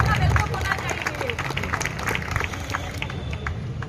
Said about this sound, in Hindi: ये तालियां बहुत कम है